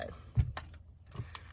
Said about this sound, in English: so punch a hole at each end of that line